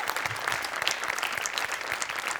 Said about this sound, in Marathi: स्पेशल टाळ्या व्हायला पाहिजे